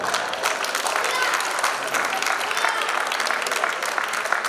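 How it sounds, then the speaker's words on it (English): Guests at a Jain community Diwali dinner in Tampa break into a hearty round of applause, crowded clapping that stays dense and even throughout, with faint murmuring from the crowd underneath. "So big round of applause for them."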